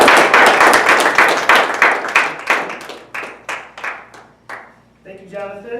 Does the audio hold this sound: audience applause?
yes